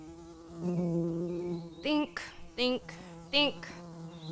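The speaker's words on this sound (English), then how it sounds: "That buzzing noise means something." A voice hums a buzzing drone, then sings three rising buzzy bursts in a rhythmic pattern, with a single spoken word among them.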